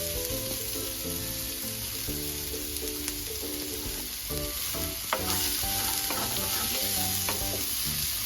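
Finely chopped onion for samosa filling goes into a small amount of hot oil, giving a steady close sizzle with occasional stirring clinks, while kitchen music plays softly underneath.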